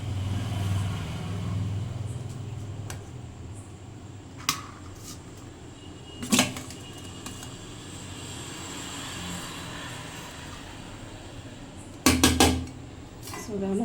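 Hot rice being served onto a plate for a night meal, with a few sharp clinks of dishes and utensils scattered over a steady background hum, and no talking.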